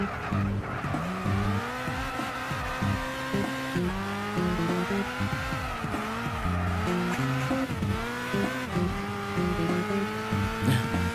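A race car in the video game Gran Turismo 6 drives continuously, its engine note rising and falling through gear changes with repeated tire squeal and skidding, loud and close with no talking.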